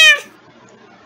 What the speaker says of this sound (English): let's go to my cat Cookies.